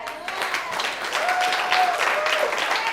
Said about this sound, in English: I don't say that for your clap and for your applause.